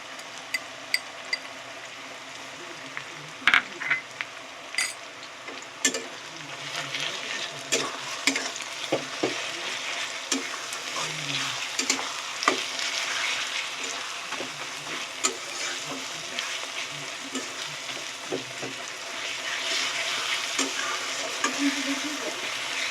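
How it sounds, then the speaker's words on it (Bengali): Onions and garlic paste frying in a pan for chicken curry, a steady sizzle with repeated scraping and stirring clatter and sharp utensil knocks, no voices. "পেঁয়াজটা একটু ভালোভাবে ভাজা ভাজা হয়ে এসছে"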